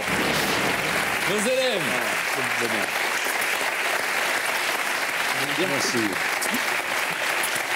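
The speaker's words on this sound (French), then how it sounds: "On les applaudit très fort, Martin Loisillon et Marie Marquis." Sustained audience applause at a French comedy show fills the whole stretch, loud and steady, while someone speaks briefly over it twice.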